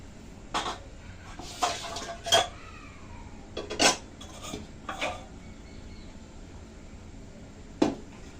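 A spoon scoops cooked sour dal with mango out of a metal pot, giving several sharp clinks and scrapes close by, spaced irregularly over a quiet background.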